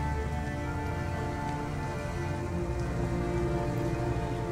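Heavy rain pours steadily outdoors in the video game Detroit: Become Human, a dense continuous wash with no break, joined by low tonal game music throughout.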